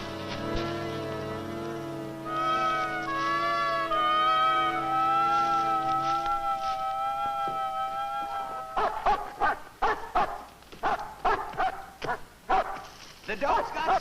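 A dog barks repeatedly in sharp, close yaps during the second half, after a long stretch of loud sustained singing or wailing voices.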